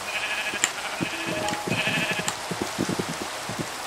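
Sheep in the video game Minecraft bleat several times in quick succession, nasal wavering calls close by over soft rain-like patter and light clicking game sounds.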